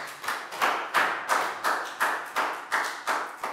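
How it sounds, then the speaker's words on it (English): Rhythmic clapping in a Year 4 classroom during a maths lesson, a small group of pupils beating out roughly a dozen even claps in unison, close and moderately loud with no talking. "High five and a big round of applause for Dan, please, guys."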